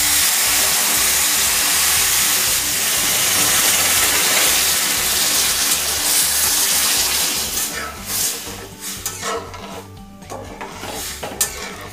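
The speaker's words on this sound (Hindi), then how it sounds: "उस टाइम हम अगर वाटर ऐड कर देते हैं" Cold water poured into a hot kadhai while making coconut laddu, bursting into a loud steady steaming hiss that gradually settles into sputtering and bubbling, with a person talking.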